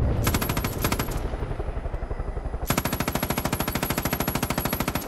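Rapid automatic machine gun fire in the Far Cry 5 video game, one loud burst, a short pause, then a longer sustained burst of evenly spaced shots.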